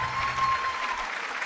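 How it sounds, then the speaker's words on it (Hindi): Brief, fairly faint applause from a studio audience on a TV show, a short steady patter of clapping without speech. "तो मेरे लिए तालियां हो जाएं"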